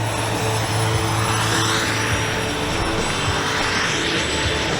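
Low-flying RC model aircraft at a noon flying demonstration give off a loud, steady, droning engine and propeller roar that fills the whole clip without letup. No one speaks over it.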